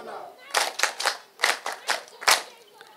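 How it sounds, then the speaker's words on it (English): A group at a military promotion ceremony claps for themselves: a short burst of sharp, distinct handclaps in a loose, uneven rhythm, fairly close and moderately loud, fading after a few seconds. "Clap for yourselves."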